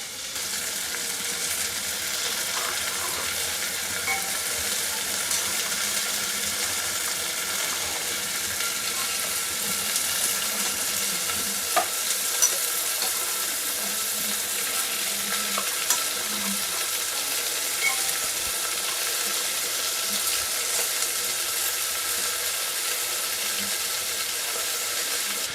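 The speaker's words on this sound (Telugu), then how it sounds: "ఈ వెజ్జీస్ అన్నీ కొంచెం ఆయిల్లో కుక్ అవ్వాలి" Chopped vegetables cooking in oil in a pan, a continuous even hiss and crackle held close for the whole stretch, with occasional faint clinks.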